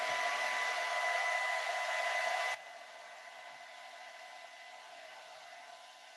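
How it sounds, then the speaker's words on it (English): A hair dryer blows loudly for a couple of seconds, then drops to a lower, steady whir that continues to the end. "it's going to be a little bit loud from the hair dryer"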